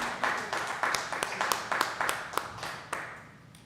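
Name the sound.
council meeting audience applause for Miss Margarita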